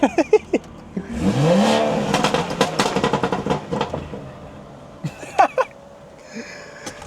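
A stage 2+ tuned BMW 340i engine revs up sharply and roars in pulsing bursts, loud and close, with brief voices and clatter around it.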